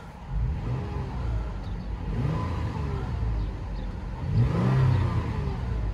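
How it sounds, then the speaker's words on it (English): A 2016 Toyota 4Runner SR5 Premium with a 4-liter six-cylinder engine revs several times from idle. The engine climbs and falls in broad, smooth surges, heard up close and without talk. "we'll see how this one sounds. That 4-liter six cylinder engine."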